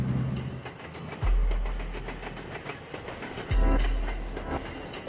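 Passenger train travelling on a coastal railway threatened by erosion, heard from aboard: rhythmic clickety-clack of wheels over rail joints with two heavy thumping jolts, continuous, close and fairly loud.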